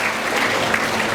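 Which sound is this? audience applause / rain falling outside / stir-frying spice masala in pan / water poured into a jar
audience applause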